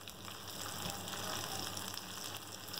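Green chillies and cumin seeds fry in hot oil in a pan as a tempering for mixed daal, making a steady, dense sizzle that crackles evenly and fairly softly throughout, with no talking over it.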